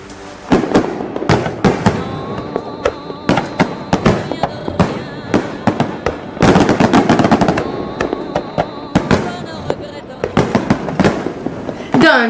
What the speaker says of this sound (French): Et maintenant, je vais te montrer les feux d'artifice.